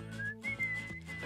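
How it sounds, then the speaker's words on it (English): A person whistles a short rising tune, clear and close, a few brief notes over soft background music. "I hear a zookeeper whistling in my ear"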